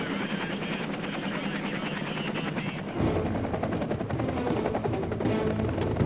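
Military helicopter from Vietnam War footage, a loud, steady rotor and engine drone that gets louder and more dense halfway through, with a rough, choppy texture throughout.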